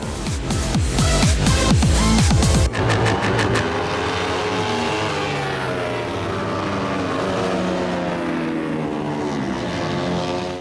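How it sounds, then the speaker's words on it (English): Motard motorcycles racing on a road circuit, engines screaming loud and close with rapid revving and gear changes, then a steady fading drone as the bikes pass and pull away. "Hein Etzel on his motard overtaking Rodney."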